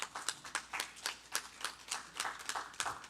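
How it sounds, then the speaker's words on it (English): Audience applause welcoming a steel pan player from Trinidad and Tobago at a book launch: a small crowd claps in a steady, rhythmic pattern of distinct, evenly spaced bursts, fairly quiet and close, with no talking over it. "Let's have a round of applause, please."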